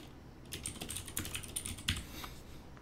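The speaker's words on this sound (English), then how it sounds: "I'm just typing in words that I feel fit the theme" Quiet typing on a computer keyboard: a light, uneven patter of soft key clicks, close by and fairly faint, with no talking.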